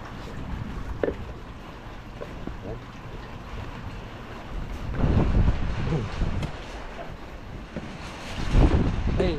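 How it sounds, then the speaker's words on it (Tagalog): Strong wind gusts in a rural yard, buffeting the microphone in loud surges with a steady rushing background. "lakas ng hangin"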